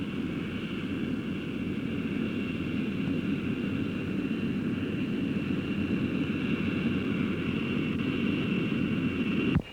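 An RAF jet of the Red Pelicans display team runs its engine up for takeoff, a loud, steady roar with a high whine that holds unbroken throughout and cuts off abruptly at the very end.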